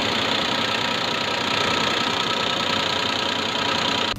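A diesel engine runs loud and steady, its knocking clatter constant throughout with no voices over it.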